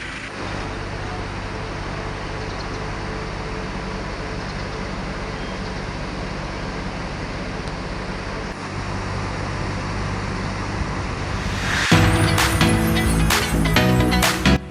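Road traffic and idling engine rumble at the Magetan bus terminal, where a Sudiro Tungga Jaya (STJ) bus waits; a steady low drone runs throughout, turning busier and brighter with clattering near the end.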